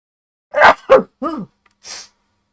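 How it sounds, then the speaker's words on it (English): A person sneezes indoors close to a microphone: sharp breathy intakes and a short voiced exclamation lead into a single hissing sneeze burst, then silence. "I've been sneezing like crazy all afternoon."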